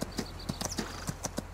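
Horse hooves trot in Farming Simulator 19, a steady, quick clip-clop of even beats, faint and fairly close, with no talking over it.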